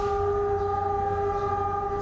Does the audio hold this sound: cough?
no